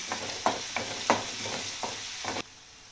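Grated coconut and chopped coriander roasting in a pan with cumin, stirred in several scraping strokes over a steady low sizzle, close and moderately loud, stopping abruptly near the end.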